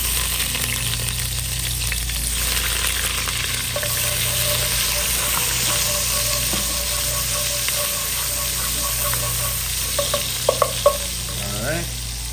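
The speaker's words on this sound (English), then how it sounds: "I'm gonna drop some onions in" Onions frying in a hot pan, a steady loud sizzle close by with occasional stirring scrapes and a few sharp clinks near the end.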